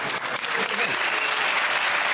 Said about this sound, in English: It's interesting to hear exactly half the audience applaud.